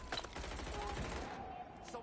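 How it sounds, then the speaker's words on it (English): Rapid automatic gunfire in Watch Dogs Legion, a fast rattling burst that runs for over a second and then stops, followed by a single sharper shot, fairly faint in the mix. "Running is pointless. Someone's shooting."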